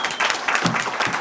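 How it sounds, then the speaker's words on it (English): Audience applause bursts out briefly, a dense patter of many hands clapping for just over a second. "Give us another round of applause"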